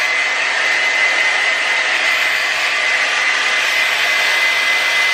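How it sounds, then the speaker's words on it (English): A blow dryer drying a layer of glue spray on a frontal wig runs steadily with a loud, constant whooshing hiss, no pauses or changes in pitch. "I'm just gonna dry it with this blow dryer."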